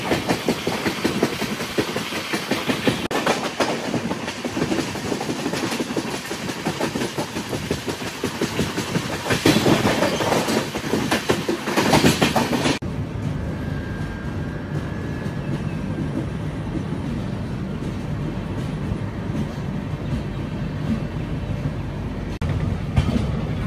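A Garib Rath Express train rolls along the rails between Secunderabad and Visakhapatnam, heard from inside as a loud, steady rumble and rattle that softens to a lower, smoother drone partway through.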